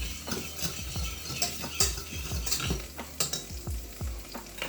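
A spoon stirring Alfredo sauce with a Caribbean twist in a pan, irregular scraping strokes over a steady soft sizzle of cooking, close and moderately quiet with no talking.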